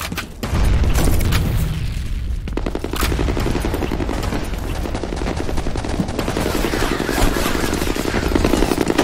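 Grenade blasts and rapid gunfire in a capture-the-flag match of the shooter game F.E.A.R. Combat: a loud boom near the start, then continuous dense bursts of automatic fire and explosions throughout.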